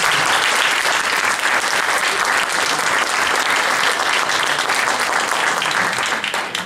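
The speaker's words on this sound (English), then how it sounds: "I do think we should finish with a big hand for all the 5 businesses" Loud, dense applause from a large audience at a startup pitch competition, sustained clapping throughout that thins slightly at the end.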